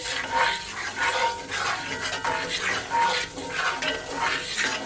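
A spatula stirs in a frying pan while making garlic butter shrimp, with rhythmic scraping strokes repeating about once a second over a soft sizzle.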